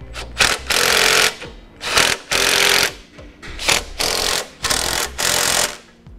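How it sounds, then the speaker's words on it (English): A power tool tightens the driver's side frame extension bolt for a tow base plate on a 2013 Chevrolet, firing in loud, close bursts of rapid impact hammering separated by short pauses, with no talk. "we'll go ahead and tighten down the driver's side frame extension."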